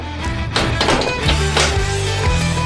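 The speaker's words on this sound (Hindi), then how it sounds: "दरवाजा बंद कर लेंगे।" A large oven door being shut after dough-filled moulds for giant crab-shaped cookies are loaded inside, heard as a few close, dull taps and thunks of metal within a busy, echoing room.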